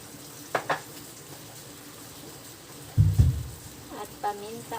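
Six eggs with a little sugar and pepper are stirred in a frying pan while cooking ampalaya, giving soft sizzling punctuated by a few clinks and a sharp scraping stir partway through.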